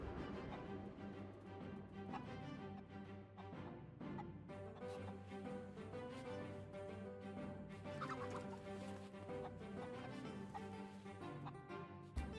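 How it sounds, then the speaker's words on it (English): Chickens clucking and squawking in the pirate video game Sea of Thieves, a dense repeated flurry of bird calls over game music and ambience, lasting the whole stretch at low level. "Can y'all calm down with the chicken noises?"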